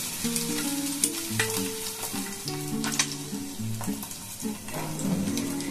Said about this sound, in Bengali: আমি 3টে ডিম রান্না করছি